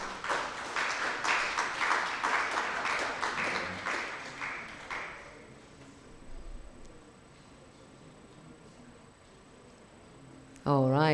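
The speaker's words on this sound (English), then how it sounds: "Please, a round of applause." Audience applause at a talk on AI in journalism and media accessibility, a dense patter of clapping for about five seconds with voices over it, fading into room noise, then a brief loud burst at the end.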